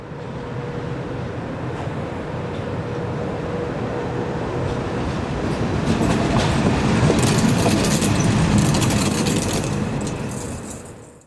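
Locomotive 151087 trundles south near Muttenz yard in Switzerland with a steady rumbling roar and rail noise that swells gradually, then adds clattering and squealing wheel sounds before fading at the end.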